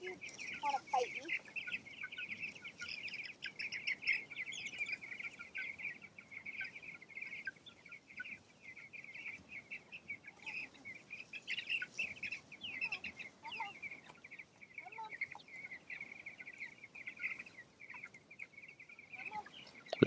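Chickens on a pasture cluck and squawk near and fairly loud, in irregular bursts over a steady rooster-like tone, with no talking over them.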